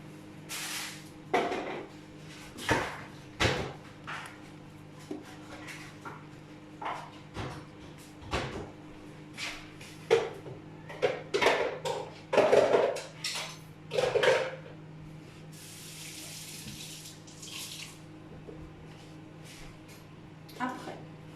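Kitchen tidying during a lemon cake and Provençal loaf bake with Tupperware: a scattered series of clinks and clatters of dishes, cutlery, drawers and cupboards, irregular and fairly close, with quieter gaps between bursts.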